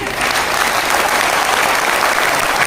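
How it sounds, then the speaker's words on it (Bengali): A seated audience at an award celebration claps continuously, a dense, even wash of applause that stays loud and steady throughout without pauses. "হাততালি কম হয়ে যাচ্ছে মনে হয়।"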